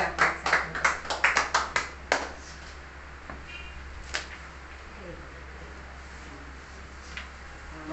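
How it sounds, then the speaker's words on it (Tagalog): A church congregation claps loudly in a burst of sharp, rhythmic claps for the first two seconds, then fades to a few scattered isolated claps and quiet room noise. "Malakas na palakpak sa atin."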